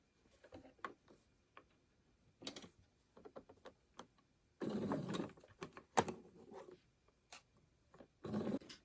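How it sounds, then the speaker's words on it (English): Sewing machine stitching across elastic on a scrunchie, heard in short quiet bursts of whirring needle runs separated by pauses, clicks and handling noises, close but soft. "Before I lose my elastic, I'm going to go ahead and sew across that."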